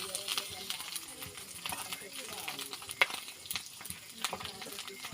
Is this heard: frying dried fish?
yes